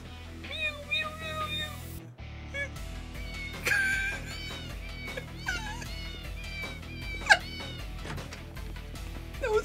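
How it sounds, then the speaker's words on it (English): Many cat meows in Yakuza 0, a rapid overlapping chorus of high, wavering mews over game music, with a speaking voice partly under them. "That was so many mews."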